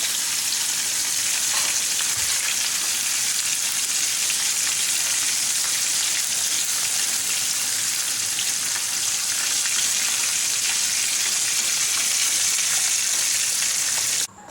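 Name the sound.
fish frying with masala in a pan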